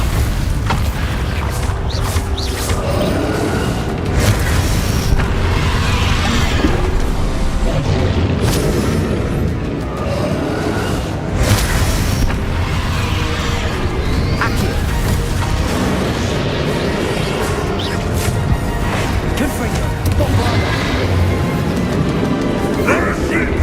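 Bombarda spell explosions and combat in Hogwarts Legacy, dense continuous booms and rumbling impacts with mechanical creaks, loud and close under frequent speech.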